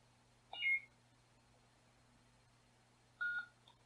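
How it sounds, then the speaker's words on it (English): Nano Biscotte V4 soundboard in a Black Series Rey lightsaber gives two short electronic beeps, a pair near the start and another pair about three seconds later, clear against a quiet steady hum. "hold down the power button until 2 beeps"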